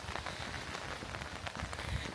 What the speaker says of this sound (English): the rain is well and truly here now.